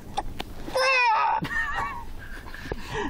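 A human voice imitates a hen about to lay an egg, giving a short run of wavering, drawn-out clucking cries, close and fairly loud, with brief breathy sounds around them.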